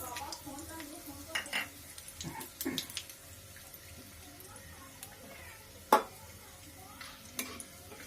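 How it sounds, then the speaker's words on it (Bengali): Dry red chillies tempering in hot oil for a spinach paneer dish, a crackling sizzle with scattered stirring clicks and a sharp utensil knock, close up with low background hiss. "প্রথমে আমি শুকনো লঙ্কার ফোড়ন দিলাম"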